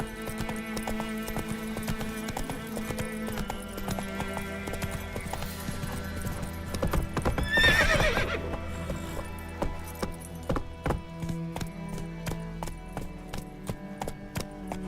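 Horse galloping in The Witcher III: Wild Hunt, a steady rapid clip-clop of hooves with music and game ambience behind it, a swell of sound midway, then the hoofbeats continue as sharp regular strikes.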